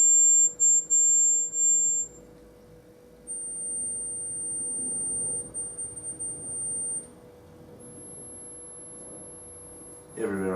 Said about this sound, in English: This is a dog whistle app on my phone.